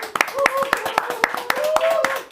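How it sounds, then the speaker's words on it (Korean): A few people clap in a Korean studio show, sharp scattered claps under a voice talking over them. "집에서 시청하고 계신 분들 박수."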